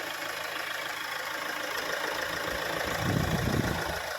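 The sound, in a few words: Mahindra XUV500 2015 diesel engine idling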